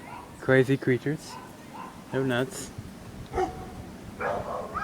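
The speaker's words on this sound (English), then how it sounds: "You can hear it right now. Barking back there." Dogs bark and yip in the background, a few sharp bursts mixed with whimpering, while a person talks over them in the foreground.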